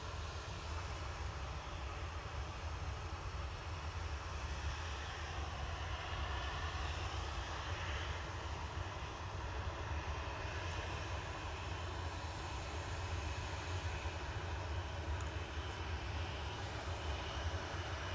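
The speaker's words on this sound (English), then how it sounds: "Flight 525 touchdown from Cancun, G2EJ for TUI, 787-9" A TUI Boeing 787-9 from Cancun touches down at Manchester Airport, a steady, loud, broadband jet engine roar holding evenly throughout with no speech.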